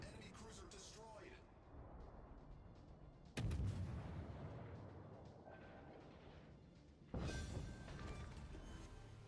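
Heavy warship guns firing in the naval combat game World of Warships, two sharp booming salvos with rumbling decay over dense battle noise, while a voice talks throughout.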